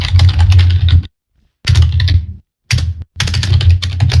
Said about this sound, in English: And sorry about the typing, everyone.